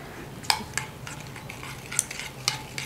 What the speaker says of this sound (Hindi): थोड़ी सी इसको इस तरह मिक्स करते हैं कि शक्कर जो है ना थोड़ी सी घुल जाए